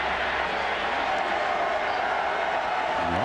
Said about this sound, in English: The Auburn crowd in the far corner making some noise